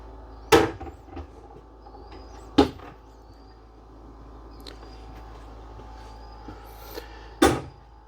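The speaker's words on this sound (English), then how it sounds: "Has magnetic catches on these doors." Three separate sharp clacks of cabinet doors snapping shut against magnetic catches inside a 2024 Salem FSX 245VC toy hauler travel trailer, spaced seconds apart, over a low steady hum.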